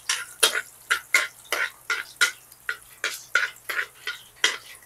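Garlic is stirred in a pan, a brisk rhythmic run of bright scraping strokes repeating about three times a second, close and fairly loud, with little sizzle beneath.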